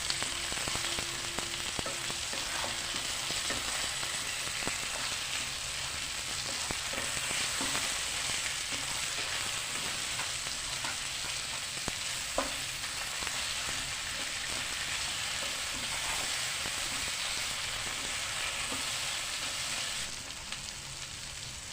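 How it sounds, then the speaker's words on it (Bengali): Spices sizzle and get stirred in hot oil for Bengali matar aloo dum, a steady crackling fry over a low flame with scattered spoon scrapes, continuous and close for a long stretch without speech. "বাকি মশলাগুলো দিয়ে দিলাম, দিয়ে খুব ভালো করে কষিয়ে নিচ্ছি।"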